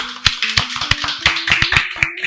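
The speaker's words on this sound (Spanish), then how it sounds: "así que un aplauso." A small group claps sparsely and unevenly at the taping of a first episode of a Christian talk program, with sharp, close hand claps over a steady low hum.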